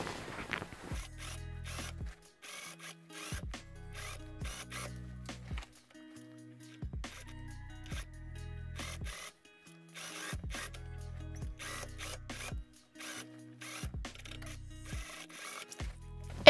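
Sewing machine stitching the lining onto a small trench coat, bursts of rapid mechanical whirring stitching that start and stop repeatedly, with short pauses and clicks between runs, close and clear.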